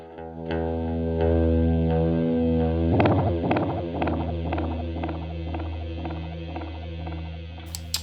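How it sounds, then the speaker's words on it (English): A UAFX Orion tape echo delay on a worn tape setting repeats a plucked guitar tone, the wobbly echoes fading in a steady rhythm over a low hum. "It's a very versatile delay. We'll go to a worn tape."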